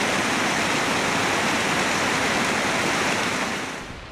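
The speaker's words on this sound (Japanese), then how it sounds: "はい、滝でちょっと休憩して、" A waterfall beside a mountain trail roars as a loud, steady broadband rush with no voices, easing slightly toward the end.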